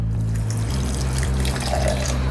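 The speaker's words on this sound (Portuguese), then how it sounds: "para ajudar a bater, vou colocar um pouquinho de água." A little water pours into a blender holding garlic and herbs for a vegetarian batter, a steady close trickle and splash over a constant low hum.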